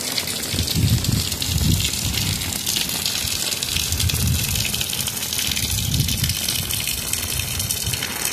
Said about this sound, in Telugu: బాగా వర్షం పడుతుందండి.